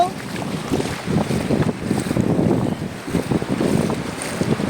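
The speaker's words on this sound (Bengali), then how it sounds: "এই দেখুন কত সুন্দর ঢেউ আসে" Sea waves washing up a sandy beach at Mandarmani, a rolling rush of surf and churning water close by, mixed with gusty wind buffeting the microphone.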